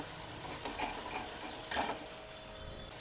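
Tomatoes sizzle in hot oil with turmeric, coriander-cumin powder and garam masala for a Gujarati dry cowpea (chola) curry, a steady quiet fry with a few stirring scrapes and one brief louder burst partway through.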